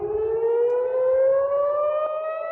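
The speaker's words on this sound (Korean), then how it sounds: "미사일이 잇따라 날아오르자 사이렌 소리가 요란하게 울려" A civil defense air raid siren wails loudly and steadily during a missile attack in Israel, its pitch slowly rising, with faint rumbling underneath.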